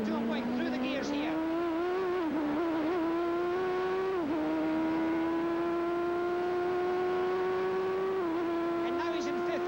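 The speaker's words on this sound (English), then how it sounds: "Now listen to him going through the gears here." Onboard a 1988 CART race car at Meadowlands, the engine climbs in pitch and then steps as each upshift comes, with a dip and recovery around each gear change, loud and continuous, with some bump noise mixed in.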